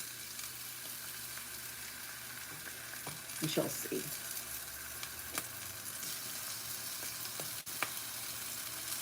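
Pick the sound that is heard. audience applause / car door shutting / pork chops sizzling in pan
pork chops sizzling in pan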